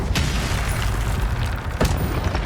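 Incendio spell casts in Hogwarts Legacy, a fiery burst with two quick whooshing pops over a dense rumbling game background.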